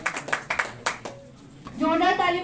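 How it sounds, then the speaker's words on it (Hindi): A seminar audience in Mukherjee Nagar breaks into a handful of sharp, scattered claps for Bihar judiciary toppers, followed by a voice talking. "जोरदार तालियों के साथ स्वागत कीजिए।"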